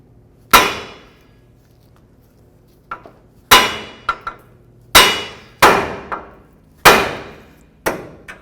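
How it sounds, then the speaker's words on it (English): Hammer blows ring out against a Ford Escape steering knuckle to free the outer tie rod end: seven sharp metallic strikes in uneven bursts, loud and close, with a few lighter taps between them and no talking. "So we're going to use a hammer."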